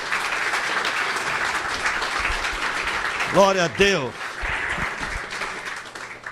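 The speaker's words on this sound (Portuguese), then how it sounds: "Dê um aplauso bem forte a Jesus" A church congregation claps loudly and steadily. Midway, a voice calls out over the applause, then the clapping continues underneath.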